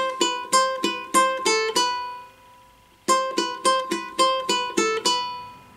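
A ukulele plays the pull-off and hammer-on riff from a song, two bursts of quick plucked notes in a bouncy rhythm separated by a short ringing pause, clear and close without talk.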